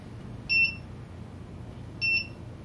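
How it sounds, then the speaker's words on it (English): A single short electronic beep from a rocket altimeter sounds, then repeats once more after a pause, high-pitched and clear over a faint background hum. "Now you just hear 1 beep"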